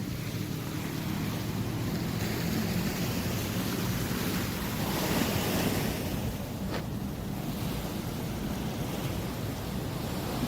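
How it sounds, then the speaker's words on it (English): Sea waves wash onto the shore at Copacabana in Rio, a continuous broadband roar with a slight swell midway, mixed with wind buffeting the microphone and no voices. "And the sound of the sea."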